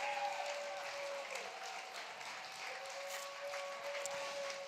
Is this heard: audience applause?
yes